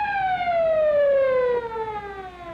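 A car siren sweeps downward in a long, steady glide, loud and nearby, then fades slightly as it winds down.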